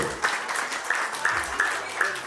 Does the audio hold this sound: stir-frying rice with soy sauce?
no